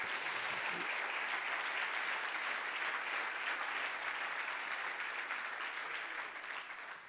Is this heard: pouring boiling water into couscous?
no